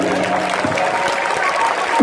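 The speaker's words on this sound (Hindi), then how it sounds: "बजाओ इस दरबार के लिए जोरदार तालियां" A crowd claps loudly and continuously at an Ekadashi kirtan for Khatu Shyam, dense applause filling the space from start to finish.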